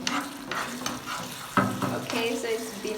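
Minced meat pie filling with carrots cooks in a pot, bubbling and sizzling with a clear stirring scrape near the middle, close and fairly loud, without talk.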